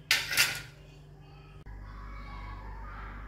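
Metal pot and utensils clatter as a buttermilk peanut curry is moved out of an aluminium pot into another vessel; a sharp close clang at the start, then quieter kitchen handling with a thud midway.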